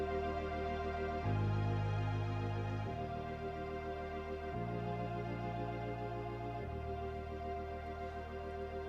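Electronic keyboard playing sustained chords enriched with extra harmony notes from an MCS Plus chord-enhancement feature, full and loud, with the chord changing about four times in a steady progression and no talking.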